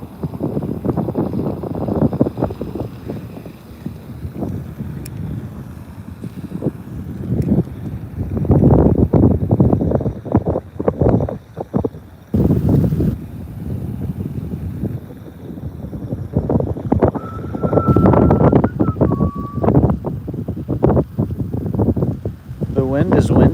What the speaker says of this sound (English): The wind is winding today.